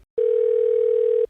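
A steady telephone dial tone sounds for about a second as a call is placed, loud and clean with an abrupt start and stop, and no one speaks.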